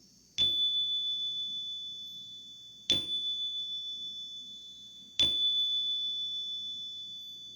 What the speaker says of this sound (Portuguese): vamos começar a nossa meditação, tocando esse sininho aqui.